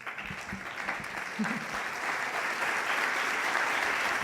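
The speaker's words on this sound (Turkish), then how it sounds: "Şimdi ödüle değer görülen üç genç arkadaşımı isim sırasıyla ve güçlü alkışlarınızla sahneye davet edeceğim." Audience applause at an award ceremony for a short-story competition, a dense, steady wash of many hands clapping that swells slightly and holds, with a few faint voices underneath.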